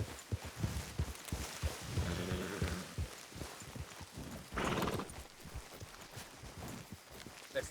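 Horses clip-clop steadily across ground in the Red Dead Redemption 2 game world, hooves close and rhythmic, with a brief whinny-like burst near the middle and low ambient rumble underneath.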